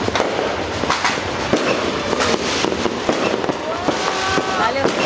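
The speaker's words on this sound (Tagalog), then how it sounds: "Fireworks!" Repeated fireworks bursts, a steady series of sharp booms and crackles at irregular intervals, loud and fairly close, with voices in the background.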